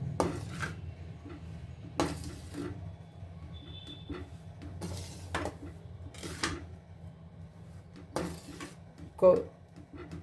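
Rava and sugar being stirred together for rava laddu, with a spoon scraping and clinking against a metal vessel in several separate bursts amid quiet background hum.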